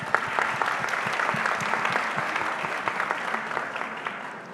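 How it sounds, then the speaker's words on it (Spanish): Moderate applause from a panel audience at a Colombian event, steady individual claps audible in a room, tapering slightly toward the end. "Un aplauso para ella, por favor."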